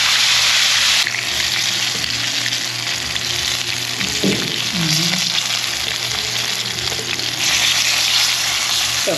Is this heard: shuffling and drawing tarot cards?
no